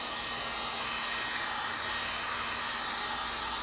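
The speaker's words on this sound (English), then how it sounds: "Plug our dryer back in quickly. And we're just going to dry it up." Hair dryer blowing steadily on a black leather chair being repaired for cat scratches, a continuous close, loud whooshing hum with no break.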